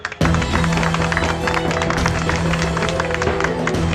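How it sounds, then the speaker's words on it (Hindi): A crowd claps loudly at a protest meeting, a dense burst of applause that starts abruptly and holds steady for several seconds, close and continuous. "एक बार जोरदार तालियां"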